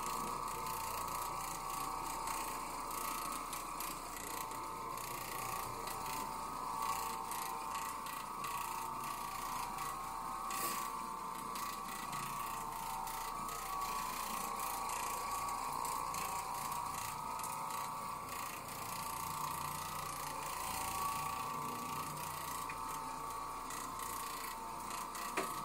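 An Oreck Orbiter carpet cleaning machine runs continuously at close range in a home, giving a steady mechanical, whirring buzz with a gritty rattling texture that holds unchanged for the whole stretch.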